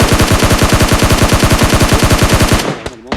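Automatic rifle fire in PUBG Mobile Lite, a loud, close, rapid and evenly spaced burst of roughly thirty shots that stops abruptly, followed by a brief fainter tail.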